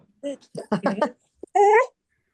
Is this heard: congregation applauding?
no